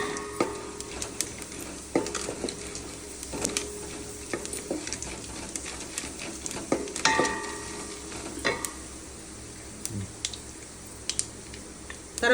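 Cumin, urad dal and green chili fry in a pan with a steady soft sizzle, broken by repeated spoon scrapes and clinks against the metal throughout.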